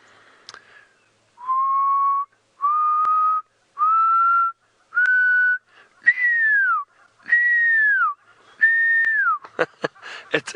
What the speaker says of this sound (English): the pearl-spotted owl has got a beautiful call